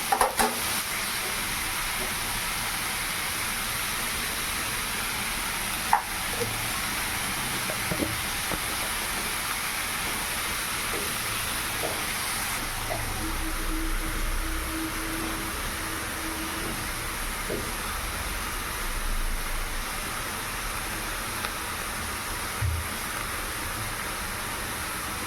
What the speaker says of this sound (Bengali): তো চাপাবো চাল কুমড়ো ভাজা।